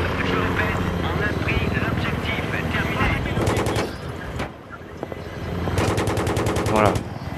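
Automatic gunfire and machine-gun bursts in the Battlefield 3 video game, with a helicopter's rotor drone running throughout, dense rapid volleys coming in waves, and voices talking over the action.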